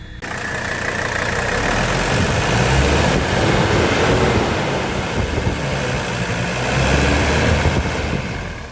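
A 1985 wagon's car engine idles steadily just after an oil change, warming up with a loud, even rumble that holds for several seconds with no talking.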